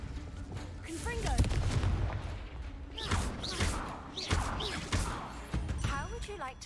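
Blasting-curse spell impacts in the wizarding game Hogwarts Legacy: several sharp explosive bursts and crashes spread out over a few seconds, mixed with whooshing spell effects and voices speaking over them.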